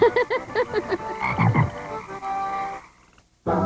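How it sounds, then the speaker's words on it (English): A big frog croaks loudly and close by, a series of short throaty pulses followed by a longer drawn-out call after a brief pause. "Big frog."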